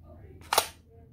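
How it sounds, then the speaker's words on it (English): A BB pistol modeled on a Glock 17 has its slide pulled back and cocked, a single quick metallic clack up close, faint surroundings before and after. "The slide on here comes back. It cocks."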